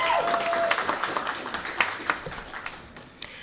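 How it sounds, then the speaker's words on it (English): An audience at a Rune magazine release event applauds, a smattering of claps that fades into scattered individual taps and thins out toward the end. "She deserves a hand."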